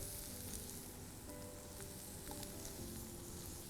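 Pak choy and already-fried tofu stir-frying in a wok, a steady low sizzle running evenly throughout at modest volume, with faint clinks and scrapes of stirring and no voices.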